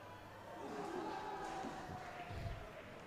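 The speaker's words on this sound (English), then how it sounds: "Lots of ahs and noos from the local crowd" A local stadium crowd at a Sri Lanka versus Yemen World Cup qualifier lets out a swelling groan at a near miss, a broad murmur rising and fading across the stands.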